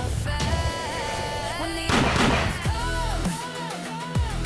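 Gunshots ring out in an interactive zombie survival show, a sharp burst mixed over a busy, loud music-and-effects bed with a dense blast near the middle.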